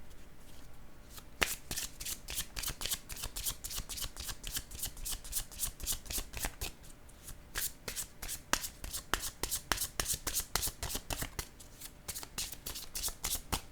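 A deck of playing cards being shuffled up close during a card reading, with repeated rapid riffling bursts and crisp card flutters running steadily throughout, no talking.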